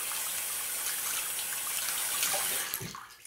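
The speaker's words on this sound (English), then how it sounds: "Then you can just run it under the faucet. Rinse it right out like that." Electric shaver rinsed under a running faucet, a steady loud rush of water that splashes and changes near the end as the water is shut off, no talk over it.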